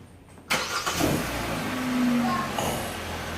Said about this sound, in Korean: 자, 시동 걸어보세요.